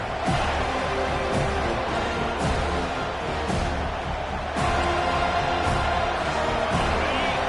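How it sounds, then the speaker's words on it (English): A college football stadium crowd roars at full volume, a dense, steady wall of noise that holds for the whole stretch with only slight swells. "This crowd, full throat, spreading the eardrums and letting them know it's going to be a long day."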